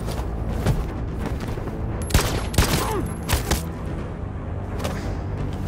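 Gunshots in Detroit: Become Human, a handful of sharp loud cracks spread irregularly over a few seconds, some close together, over a low background rumble with no talk.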